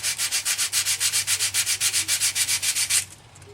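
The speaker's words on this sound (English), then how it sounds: "This is 150, and you can just kind of like make a coil of it, and we're just going to sand." Coiled 150-grit sandpaper rubs an epoxy clay fin fillet on a model rocket in quick, even back-and-forth strokes, about twenty rasping passes close up, before stopping abruptly.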